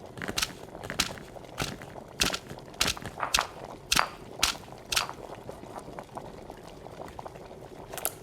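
Alchemist's potion of shadow chanterelle mushroom heating in a cauldron in the game Potion Craft, with repeated short bubbling pops over a soft liquid background, fairly close and steady.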